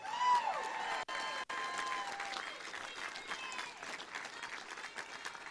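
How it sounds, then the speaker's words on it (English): A gala crowd applauds the governor-elect's mother, father and brother on election night in Mississippi, a steady dense wash of clapping with some cheering that holds loud throughout, with no talk over it. "I kind of think they need a round of applause too"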